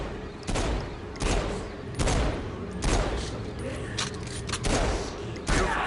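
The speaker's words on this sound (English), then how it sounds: "From there you can finish him off with your pistol." Pistol shots ring out in a PS4 combat video game, several sharp bursts about every second, loud against dense game music and effects, with voices talking at times.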